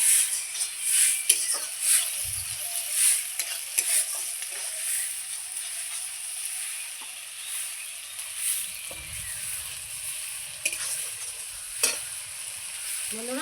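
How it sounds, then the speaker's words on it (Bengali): Masala sautéing with turmeric and salt in a pan, a quiet sizzle with intermittent stirring scrapes and a few light metallic taps, fairly soft and uneven. "হলুদ লবণ দিয়ে খুব সুন্দর করে আমি আবারও মশলাটাকে কষিয়ে নেব।"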